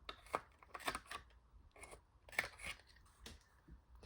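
A corner rounder punch clips the two top corners of patterned 12x12 scrapbook paper, giving several soft, crisp snips and clicks spread across a few quiet seconds with no talking.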